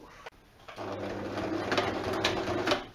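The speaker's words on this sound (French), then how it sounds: "je laisse l'aiguille piquer, je soulève mon pied presseur, je tourne le tissu" A household sewing machine stitches a fabric cushion cover, its quiet motor whirring steadily after a brief start, close and fairly faint.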